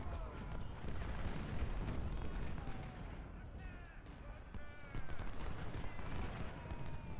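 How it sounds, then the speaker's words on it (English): Musket volleys and cannon fire rumble through a Civil War battle in Ultimate General: Civil War, a dense, continuous roar of distant gunfire and booms with faint voices underneath. "Fire a damn volley at the artillery."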